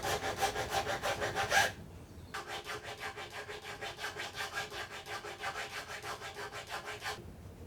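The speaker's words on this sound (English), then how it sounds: "It's time to work on the nut and I need to clean all the residue." Glue residue being scraped from the nut slot of a Yamaha F310 acoustic guitar, heard as steady rhythmic back-and-forth rasping strokes, close and clear, with a short pause before the strokes resume.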